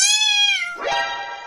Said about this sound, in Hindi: एक खूंखार बिलौटा कुटकुट के पीछे लगा है